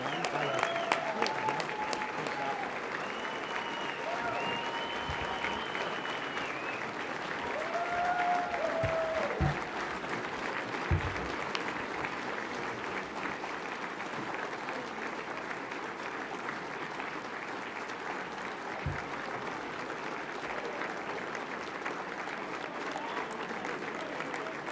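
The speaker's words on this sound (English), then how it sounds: "Let's give them a round of applause." Sustained applause from a large crowd, steady and dense throughout, with a few cheers and voices rising over the clapping.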